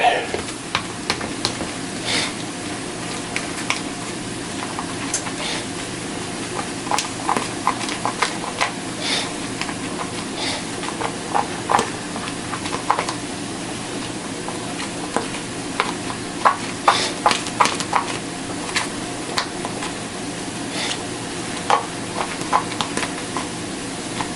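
Ingredients for polystarch portion bread are mixed by hand, with a soft continuous stirring rustle and scattered light clicks and scrapes of the utensil against the dish throughout.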